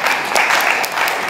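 An audience claps for a university vice chancellor at a formal MoU ceremony, dense sustained applause filling the hall at close range.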